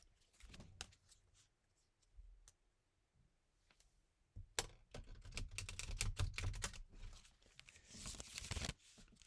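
A deck of playing cards is shuffled by hand, with dense riffling clicks and flutters that build in loudness after a few scattered quiet taps, close up and with no talking.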